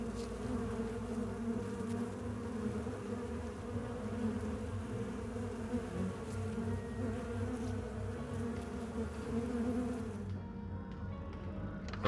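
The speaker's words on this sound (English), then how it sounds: "Buzzing ceases." Insect-like buzzing from the horror dating game Sucker for Love drones steadily and fairly loud for about ten seconds, then cuts out abruptly near the end, with no voices over it.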